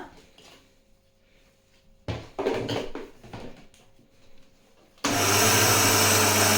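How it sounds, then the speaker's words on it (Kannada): A mixer grinder roars on loudly and steadily near the end, after some clattering and handling noises. "ಇದನ್ನು ಮಿಕ್ಸಿ ಮಾಡ್ಕೊಳ್ಳೋಣ."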